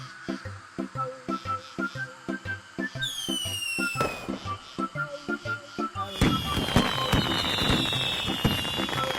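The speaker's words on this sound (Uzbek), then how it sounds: "Kechasi o'rmonda kim mushakbozlik qilyapti ekan, ha?" Fireworks in an animated cartoon in a forest at night: a rhythmic run of evenly spaced pops, then whistling rockets rising and a dense crackling burst of bangs near the end, with faint speech-free music underneath.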